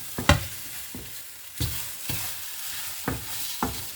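Spoon scraping and stirring food with dill in a sizzling pan: several soft, close knocks spaced about half a second apart over a faint frying hiss.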